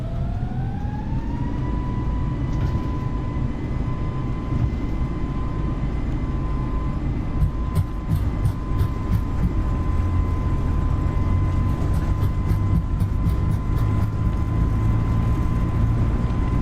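Airliner jet engines spool up for takeoff in Microsoft Flight Simulator on an Air France FlyByWire A32NX, a rising whine settling into a steady high tone over a loud continuous roar, with rhythmic clicks and rumble as the roll builds.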